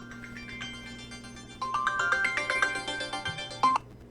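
A phone alarm ringtone plays close to a microphone, a repeating electronic melody that starts soft and jumps noticeably louder partway through, with a low steady hum underneath.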